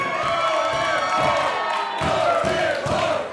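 Arena crowd at a pro wrestling event cheering and shouting for a wrestler, a loud sustained roar with rhythmic thumping chants and claps, while someone talks over it.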